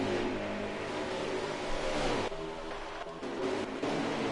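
A racing truck engine in NASCAR Heat 5 roars steadily at full throttle, the whine dipping briefly and surging again as it revs, loud and close with no talk.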